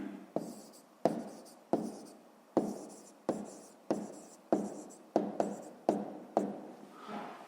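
A pen writes on paper with about a dozen quick, evenly spaced strokes, each a sharp scratch that trails off, close and fairly quiet with no voices.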